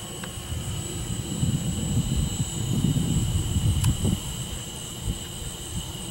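A Sky Surfer model paramotor with modifications flies overhead at reduced throttle, giving a steady thin high motor whine over wind rumble, heard from a moderate distance and continuing throughout.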